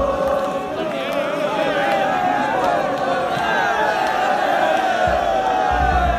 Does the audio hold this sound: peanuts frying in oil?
no